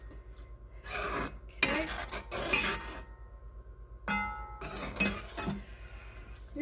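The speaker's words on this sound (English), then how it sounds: "The sofrito has to stir fry real good and cook down" A spoon scrapes and rasps against a pan in repeated strokes while sofrito vegetables stir-fry for Spanish red rice, with a faint steady hum beneath and one brief spoken word.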